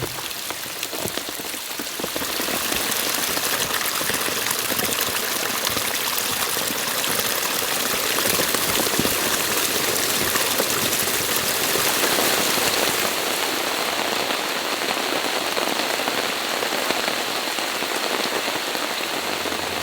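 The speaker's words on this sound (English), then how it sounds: "There's a lot of water coming off of this mountain." Heavy rain from Hurricane Ian pours steadily onto surfaces while water runs off a mountainside. The dense, close hiss holds unbroken for the whole stretch, with no voices.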